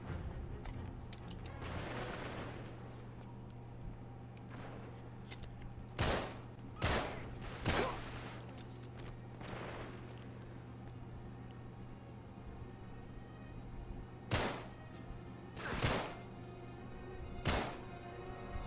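Scattered gunshots in the video game Uncharted 3, sharp isolated bursts spaced irregularly over a steady low hum, some loud and close, others softer.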